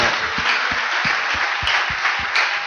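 A church congregation claps in a steady rhythm, sharp regular beats about three per second over a dense bed of continuous applause, loud and sustained without talk.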